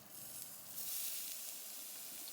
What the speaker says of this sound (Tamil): கொஞ்சோண்டு புளி பச்சை மிளகா சிம்மிலே வச்சு வறுத்துக்கோங்க